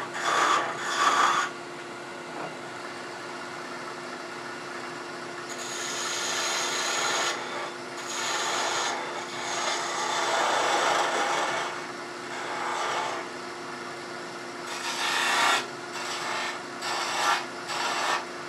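A woodturning gouge cuts a small wooden Christmas tree ornament spinning on a lathe, giving close, dry rasping bursts that start and stop in short passes, with a steady hum underneath.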